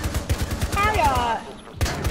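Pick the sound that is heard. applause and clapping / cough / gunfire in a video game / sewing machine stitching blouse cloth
gunfire in a video game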